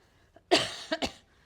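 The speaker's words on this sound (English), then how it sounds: "I'm just getting over a little cough." A short burst of coughing, one sharp cough followed by two quicker ones, close and fairly loud against a quiet background.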